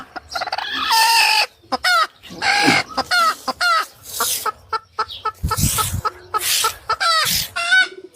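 Loud, close chickens clucking and squawking in rapid bursts, overlapping calls with short pauses between them.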